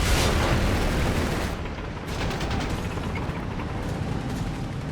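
A Panzerschreck fires amid a World War II battle in a strategy game, heard as a dense, loud wash of blasts and rumble that swells at the start and stays steady throughout.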